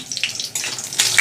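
Tap water runs into a sink while greens and vegetables are rinsed in a home kitchen, a steady hiss with splashing surges, close and unbroken for about a second.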